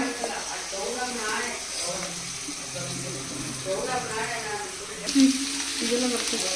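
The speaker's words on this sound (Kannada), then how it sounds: "ಇವಾಗ ಚೆನ್ನಾಗಿ ಫ್ರೈ ಮಾಡ್ಕೊಳ್ಳೋಣ ನೋಡಿ ಈ ಥರ ಚೆನ್ನಾಗಿ ಫ್ರೈ ಆಗಲಿ ಶುಂಠಿ ಬೆಳ್ಳುಳ್ಳಿ ಪುದೀನ ಕೊತ್ತಂಬರಿ ಸೊಪ್ಪು ಎಲ್ಲ ಹಾಕಿ" Ginger, garlic, mint and coriander leaves fry in hot oil in a pan for a mutton kheema ball curry, with a steady close sizzle and occasional stirring beneath a person talking.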